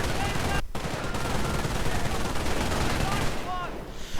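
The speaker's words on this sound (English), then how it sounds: "Largely the MG42 providing it a covering fire." An MG42 machine gun lays down covering fire in a 1v1 video game battle, a dense, loud stream of rapid shots with other gunfire and explosions mixed in, continuous across the whole stretch.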